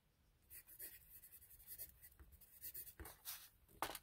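A pencil writes on a brown paper lunch bag, giving close, soft scratchy strokes in short irregular bursts with a few sharper scrapes.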